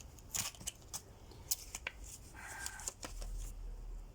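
Sharp, crisp snips of scissors cutting, several quick irregular clicks close by in a quiet room, followed by a brief rustle.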